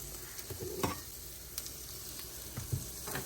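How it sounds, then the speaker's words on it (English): Warm tomato broth is ladled into a hot Lodge cast iron pan, giving a steady close sizzle with occasional soft scrapes and bursts of spitting. "I'm going to start to ladle in my tomato broth"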